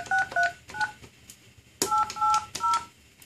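Keypad tones from a VoIP desk handset being dialed, about eight short beeps in two quick bursts separated by a brief click, clear and close with no talking.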